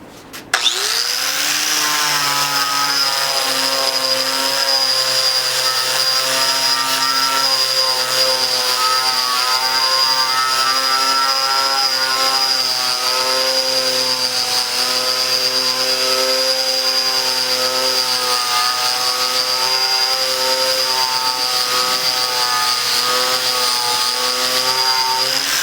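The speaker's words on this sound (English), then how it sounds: "You're just kind of letting the angle grinder do most of the work." An angle grinder strips cracked clear coat and paint down to bare metal on a Jeep Cherokee XJ hood. It gives a loud, sustained high-pitched whine that holds steady for the whole stretch, alone and unbroken.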